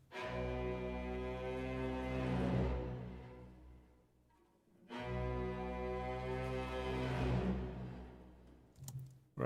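Recorded strings layered with VST strings play two long sustained swelling chords with rich low harmonics, each fading out, followed by a brief faint clatter at the end.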